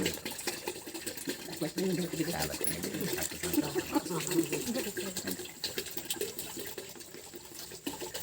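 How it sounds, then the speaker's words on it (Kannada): Cow urine poured into a container while mixing jeevamrutha, a steady gurgling liquid stream heard close, with a person talking over it. "ಈಗ ಗೋಮೂತ್ರ ಹಾಕ್ತಾ ಇದೆ ಒಂದು ಲೀಟರ್ ಗೋಮೂತ್ರ"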